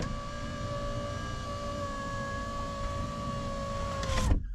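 A steady electric motor whine with a high tonal hum runs for several seconds as a car power window rises, then stops with a soft thump as the window finishes closing.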